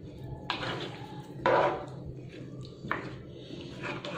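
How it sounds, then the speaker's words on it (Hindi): A spoon stirs potato and tinda curry in a metal pot, giving a few sharp scrapes and clinks spaced about a second apart over low kitchen background noise. "और इसको अच्छे से चला लेते हैं।"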